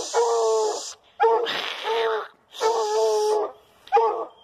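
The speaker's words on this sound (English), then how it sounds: "That's a female dog right there." A female coonhound whimpers and yips in four close, strained bursts with brief pauses between them, loud and near, during a coon hunting outing.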